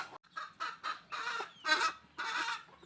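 A broody hen separated from her chicks clucks in a close, steady series of about six short, distinct calls with brief pauses between them, and no voices.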